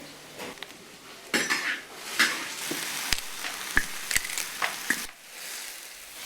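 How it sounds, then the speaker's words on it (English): Food fries in an enormous wok over a wood fire in a Tibetan home kitchen in Ganzi. A low sizzle runs under repeated metal scrapes, clanks and sharp utensil knocks, close and busy, with no talking. "women are busily preparing the delicious meal, cooking in an enormous wok and starting up the wooden fire"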